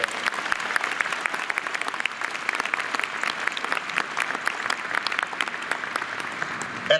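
Steady, even applause from a large audience at a 2022 osteopathic medicine college graduation ceremony, continuous clapping heard at a moderate distance without talk.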